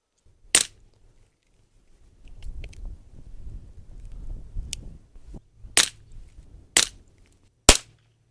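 A 4mm Flobert pistol cracks out several loud, sharp shots, one early and three spaced near the end. Between them are quieter handling noises and a short mechanical click.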